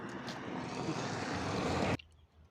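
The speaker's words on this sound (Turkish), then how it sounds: "Motorumuz şu an çalıştı." An RMG Moto Gusto Spark 50cc moped from 2023 runs as a loud, rough, close-up rush of engine noise for about two seconds, then cuts off sharply, leaving faint background.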